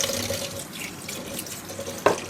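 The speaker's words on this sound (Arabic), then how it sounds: "فتحت الميه" Water runs steadily from a kitchen tap while beef intestines are being cleaned, a close, continuous splashing stream ending with a brief knock near the end.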